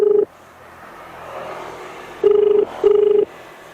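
A mobile phone call rings back with repeated electronic tone bursts, one at the start and two more close together near the end, loud and clear over faint background hum.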